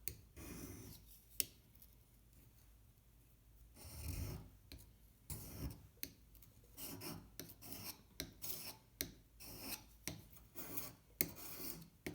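A tool being sharpened by rubbing it against a sharpening stone. The stone gives close, quiet, rhythmic gritty strokes, repeated in irregular bursts with brief pauses between them.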